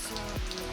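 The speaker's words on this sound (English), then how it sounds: "So it's raining right now." Steady rain falling outdoors around a vehicle during a switch panel install, a constant soft patter with a brief low thump partway through.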